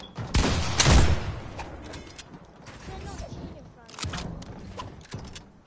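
Flintlock gunfire in a video game, a loud opening blast followed by scattered sharper shots and mechanical clicks and creaks, spaced irregularly over several seconds.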